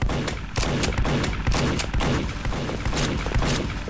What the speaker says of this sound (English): I shot somebody with the Nerf bullet.